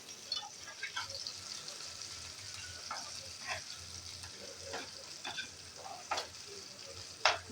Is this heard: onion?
yes